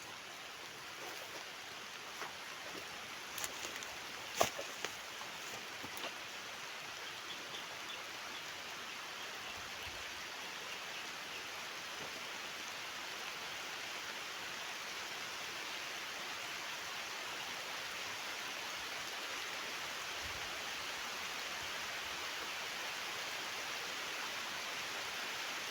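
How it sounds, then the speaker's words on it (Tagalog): Steady, even rain hisses continuously over a lakatan banana farm, a dense wash of falling drops with a few sharper taps near the start. "Nag-ulan na guys."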